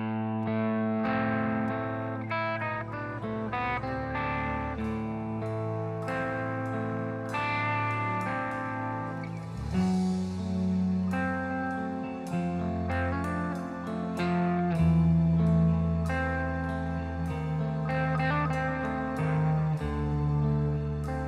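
An electric instrumental from a 1995 album is played live at a festival. A distorted, effects-laden electric guitar leads over a steady full band, loud and continuous throughout.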